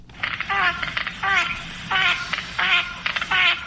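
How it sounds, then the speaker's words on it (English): Female duck giving loud nasal quacks in five close bursts, each a short descending series, with the male's clacking mixed in, heard nearby over a low background hum. "the quacking of the female and the clacking of the male"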